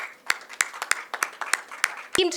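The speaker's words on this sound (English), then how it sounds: "A huge round of applause." Scattered, sparse hand claps from an audience at the Filmfare Awards Punjabi 2025 ceremony, about eight separate sharp claps spread over a couple of seconds, fairly close, with a brief voice at the end.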